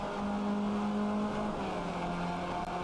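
Race car engine in the iRacing sim holding a steady, loud drone as the driver gets back on the throttle out of an uphill corner, with a sustained low harmonic tone and no talk over it.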